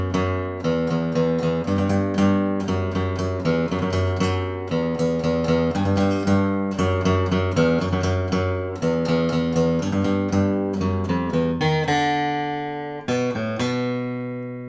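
Electric-toned guitar picking out a main melody, a run of quick, evenly plucked single notes with ringing sustain, ending on a few long, decaying held notes.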